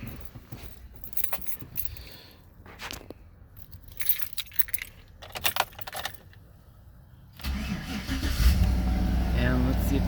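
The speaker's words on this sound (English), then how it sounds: "So let's try to start this baby up and see what happens." Car keys jangle and rattle in the ignition for several seconds, then an engine cranks and catches into a loud steady idle on a car being repaired for a check engine code, with someone talking briefly.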